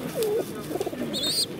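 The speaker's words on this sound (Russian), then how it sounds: "Моздоцкие голуби." Mozdok pigeons coo in a few short, soft, low-pitched calls, with a brief higher whistling chirp near the end, close by, at a bird market in Pyatigorsk.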